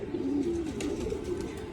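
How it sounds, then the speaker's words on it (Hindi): A small female pigeon cooing, a soft, low, throaty coo repeated in a short steady phrase, close and fairly quiet. "छोटा सा कबूतर है, मादा है"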